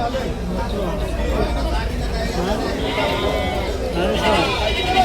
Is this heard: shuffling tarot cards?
no